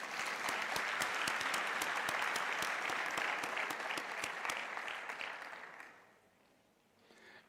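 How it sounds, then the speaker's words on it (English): A graduation ceremony audience gives Professor Mputi a round of dense, sustained applause that fills the hall for several seconds, then thins out and fades to scattered claps near the end. "Ladies and gentlemen, I believe Professor Mputi deserves another round of applause."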